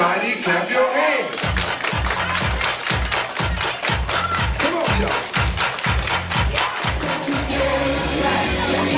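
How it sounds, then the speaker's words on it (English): Crowd at an 8th grade school dance clapping hands in a steady, rhythmic beat along with loud thumping dance music, the claps sharp and evenly spaced throughout. "everybody clap your hands."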